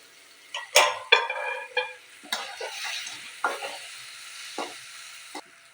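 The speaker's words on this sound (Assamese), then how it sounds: "সৰিয়হখিনিও মই মছলাৰ লগত ভাজি ল'লোঁ" Mustard seeds and masala fry in a pan while a spoon scrapes and stirs in a series of sharp, close strokes over a steady sizzle, with no voices.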